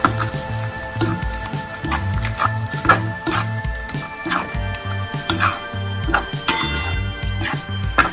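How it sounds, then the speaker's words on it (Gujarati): Tomato gravy being stirred into a pan for pav bhaji, with steady clinks and scrapes of a spoon against the metal and a soft sizzle, continuous and fairly close over background music. "તો હવે ટામેટાની ગ્રેવી એડ કરી દઈશું મિક્સ કરી લઈશું"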